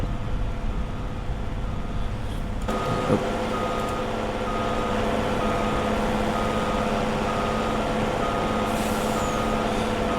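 A truck in Farming Simulator 25 reverses with a steady repeating beep over a low idling engine drone, an air brake hiss cutting in briefly near the start.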